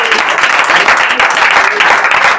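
A short burst of lively clapping from a church congregation during a pastor's sermon, loud and close, rippling with uneven claps.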